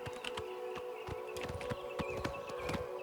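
A horse in the video game Oblivion Remastered clip-clops in a quick, uneven run of hoofbeats, crisp and close over a steady background hum, with no talking.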